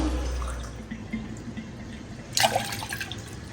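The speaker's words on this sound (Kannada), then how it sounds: "ಮೂರು ಲೋಟ ಹಾಕ್ತೀನಿ ನೀರು" Water poured from a glass into a cooking pot gives a soft, close splash and trickle, with a brief louder gush in the middle against low background noise.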